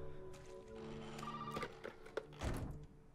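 A telephone rings in the survival horror game Resident Evil 7, repeated tonal rings mixed with thuds and clunks in a quiet game scene.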